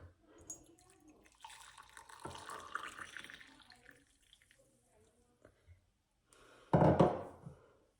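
Boiling water pours steadily into a mug for about a second, then after a pause a short louder splash of pouring follows.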